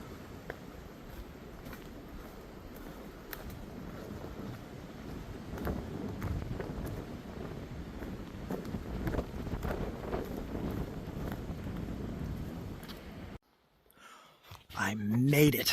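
Gusty wind buffets the microphone on a steep, cold, foggy stretch of the Appalachian Trail, a continuous roaring rush that swells and fades for most of the clip before a brief lull and a final loud gust.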